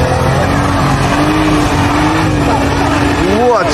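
A Jeep Wrangler engine revs hard and loud while clawing up a steep off-road slope, rising in pitch near the end with tyres squealing and voices talking over it.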